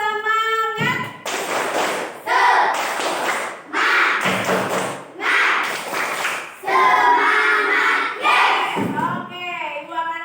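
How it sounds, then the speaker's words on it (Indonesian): A teacher and a class perform a rhythmic group clapping chant in Indonesian, with bursts of sharp hand claps alternating with short spoken or chanted phrases in a steady pattern. "Kita tepuk semangat dulu bersama-sama"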